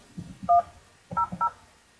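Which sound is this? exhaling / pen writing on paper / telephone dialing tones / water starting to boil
telephone dialing tones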